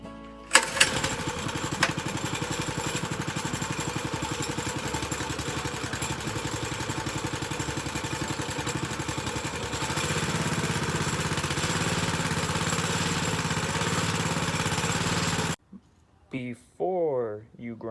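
Small single-cylinder engine of a Massimo Baja Warrior MB200 mini bike, running on choke at a steady close, loud putter and lifting slightly in pitch partway through before cutting off abruptly, followed by brief handling noises.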